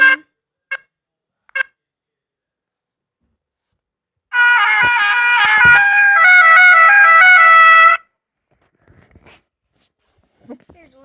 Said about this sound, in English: There's one of the air horns.